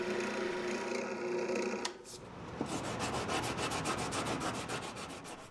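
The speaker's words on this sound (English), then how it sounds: "I'll give it all a final sanding and soften the sharp edges" Sandpaper rubs a wooden board for a Three Men's Morris game. A steady rasping stroke runs, stops briefly, then returns as a rhythmic back-and-forth sanding, close and fairly quiet.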